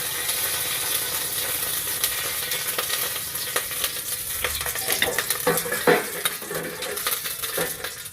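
Bitter gourd (ampalaya) frying in used cooking oil in a pan, a constant loud sizzle with clinks and scrapes of a utensil stirring against the pan.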